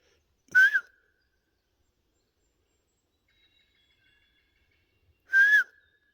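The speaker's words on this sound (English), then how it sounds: "These are whistles." Two short, sharp whistles in the woods, the second about five seconds after the first, each carrying a quick rising-and-falling bend. They ring out clearly against near silence.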